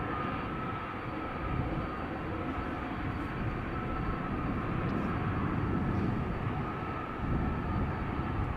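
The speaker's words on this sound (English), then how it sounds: "a familiar sound of an airplane coming this way. It is a Delta A330, flight 161 to Minneapolis" A Delta Airbus A330 airliner approaching at Amsterdam Schiphol, a steady broadband roar of jet engines holding at a constant level throughout, heard alone without voices.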